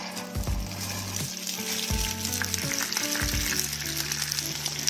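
Hot rapeseed oil sizzling in a pan ready for stir-fried rice, a steady close crackling hiss with occasional low stirring clunks of the pan, no voices.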